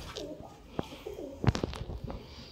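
Wild pigeons kept for sale in Sialkot give a few soft, low coos, with one fuller call in the middle and quieter calls around it. No one speaks.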